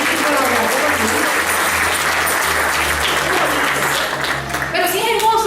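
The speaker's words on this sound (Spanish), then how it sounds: "Es un aplauso." Loud, sustained applause from a congregation in a church service, dense and continuous for several seconds, with sung or spoken voices and low tones underneath.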